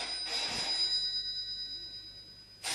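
In a Hindi stage drama, a telephone rings with a steady high electronic tone over room hiss, then a louder burst starts just at the end.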